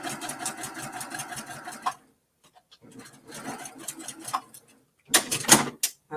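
A sewing machine stitching quilt block pieces, with quick rattling runs of stitching in bursts, stops and starts, then a sharper final burst, close and clear.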